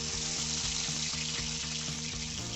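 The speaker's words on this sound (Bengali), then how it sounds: "মাছগুলো হলুদ লবণ দিয়ে মাখানো ছিল, সেগুলো এখন আমি ভেজে নিচ্ছি।" Prawns marinated in turmeric and salt fry in a pan, giving a loud, continuous sizzle with a faint repeating mechanical hum beneath it and no one speaking.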